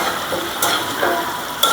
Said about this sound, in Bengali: 2 মিনিট এভাবে নাড়াচাড়া করে নিলে কালারটা সুন্দর হলুদ হয়ে যাবে, সাদা থাকবে না।